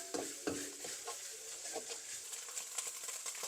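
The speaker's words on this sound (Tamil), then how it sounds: "இந்த எண்ணெயில் இது கொஞ்சம் ஃப்ரை ஆகணும்." Pasta recipe ingredients fry in oil in a kitchen pan with a faint, steady sizzle. A few soft stirring scrapes against the pan are heard, all quiet and close.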